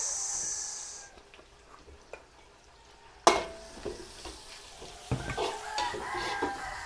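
Garlic and onion sautéing in a pan, with a quiet sizzle, sharp utensil clatters against the pan and stirring scrapes that grow busier as the onion goes in.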